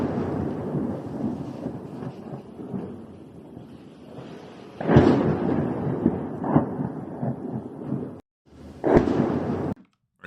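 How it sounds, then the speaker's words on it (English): Heavy booms from strikes near a railway station in Rostov Oblast roll out in the distance, two large deep blasts standing above a rumbling, wind-buffeted background, the second one cut off abruptly. "what sounds like some massive explosions"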